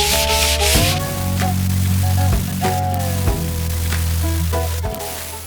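A power sander works over coated plywood strip flooring inside a prison bus conversion, giving a steady, loud abrasive whir with a humming motor tone that dips briefly a few times as the sander is shifted.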